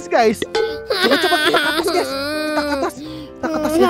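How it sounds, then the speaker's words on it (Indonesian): Baby crying inside the Roblox game Twilight Daycare, a wailing, whimpering infant cry rising and falling in several bursts, loud and close, with a person talking over it. "Seperti ada suara bayi menangis"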